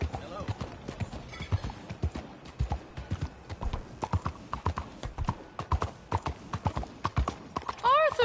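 A horse gallops in Red Dead Redemption 2, its hooves pounding out a fast, steady clip-clop rhythm up close, with a brief whinny near the end and a voice speaking over it.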